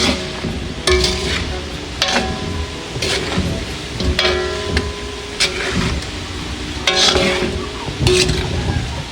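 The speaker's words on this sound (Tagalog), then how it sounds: "Hahaluin ko lang po itong saging." Banana pieces sprinkled with sugar sizzle in a frying pan for banana cue while being stirred, with steady close frying noise and regular scraping strokes about every second.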